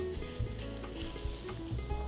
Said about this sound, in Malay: sekarang ni saya akan masukkan kita punya tempe yang dah potong ni dalam minyak yang panas